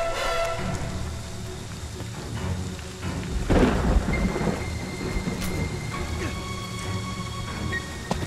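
Rain and rumbling thunder in Friday the 13th: The Game, steady rainfall hissing throughout with a loud thunderclap crashing in the middle and rolling away, plus scattered game tones.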